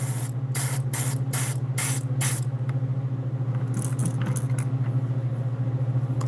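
An airbrush sprays paint in short hissing bursts over a steady mechanical hum, the bursts coming in a quick series and then trailing off into faint rattles.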